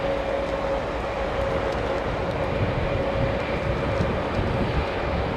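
An Airbus A320 at Heathrow Airport gives a steady, moderately distant jet engine whine and rumble, continuous and unbroken throughout with no voices.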